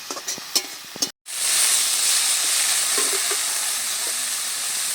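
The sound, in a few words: stirring fried small fish with thankuni leaves in pan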